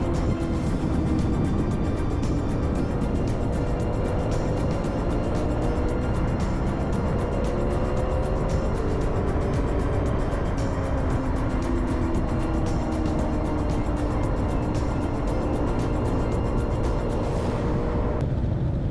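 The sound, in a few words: vintage motorcycle riding a lap on race track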